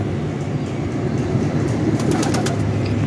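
Pigeons of the Nankana breed in a loft coo softly against a steady low background rumble, with a few brief higher chirps near the end and no talking.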